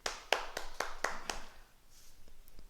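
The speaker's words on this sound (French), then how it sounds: "Et on s'applaudit." A martial arts class claps for itself at the end of an exercise, six sharp, evenly spaced claps ringing out close and crisp, followed by a few faint scattered taps as the room settles.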